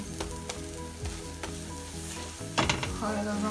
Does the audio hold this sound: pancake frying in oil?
yes